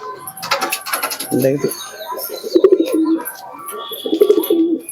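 Andra pigeons coo in soft, throaty bursts close by, repeated several times amid faint rustling and a brief voice.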